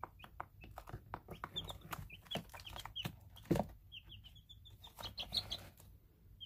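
Baby chicks kept indoors, under six weeks old, give many high, quick peeps and chirps in scattered clusters, close and fairly loud, over some handling noise and one brief rumble.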